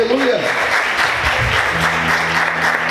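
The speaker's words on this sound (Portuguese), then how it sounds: "Aplauda o Senhor mais forte, aleluia." A church congregation at an evening Portuguese-language service applauds loudly, a thick continuous wash of many hands close and full, with a voice and low musical tones sounding beneath the clapping.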